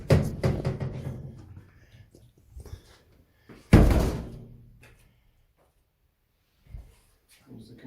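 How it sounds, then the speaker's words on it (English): A self-closing metal door in a modern cell block of the old Nevada State Prison swings shut with a loud, sharp slam near the four-second mark, ringing briefly in the hard space after earlier clanks and rattles, with faint voices nearby. "Self-closing doors."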